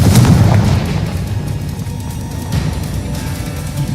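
In the Hogwarts Legacy video game, a Confringo explosive spell sets off a loud, deep blast that rolls on into a rumbling boom with a long fading tail.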